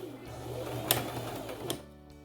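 Sewing machine stitching fabric for a scrunchie, a steady close mechanical whir with a couple of sharp clicks, running continuously before stopping near the end.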